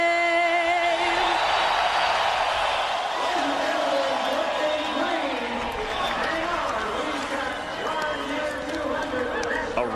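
A raucous grandstand crowd at Atlanta Motor Speedway roars and whoops before a NASCAR Craftsman Truck Series race, a dense steady din of voices with a faint tone drifting over it.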